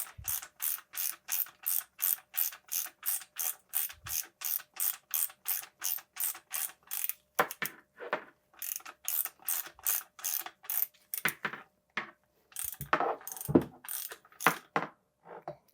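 A ratchet tightens parts on a 2023+ Rockshox Pike fork during a Charger 3 RC2 damper service, its close, crisp clicks coming in a fast regular run, then in shorter, irregular bursts.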